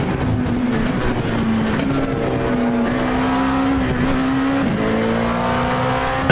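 A BMW M Hybrid V8 LMdH race car in the iRacing sim, its engine holding a loud steady drone that shifts pitch slightly, then climbs in a rising rev near the end.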